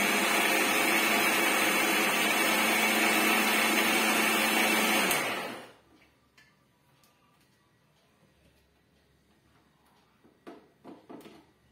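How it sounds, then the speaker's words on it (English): Cream whirls in an electric blender while being churned into ghee, a loud steady motor roar for about five seconds that cuts off abruptly, followed by quiet and a few light clinks and knocks. "So let me blend once more."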